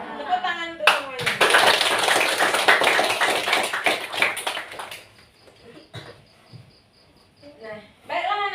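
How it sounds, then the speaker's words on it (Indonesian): A burst of clapping from a classroom of children fills several seconds, loud and dense, then fades out, with children's voices before and after. "Tepuk tangan untuk semuanya."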